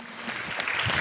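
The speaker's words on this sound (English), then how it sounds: "Give them a huge round of applause" Audience at a gala breaks into applause, a soft wash of clapping that swells slightly over one second, fairly distant and without talk.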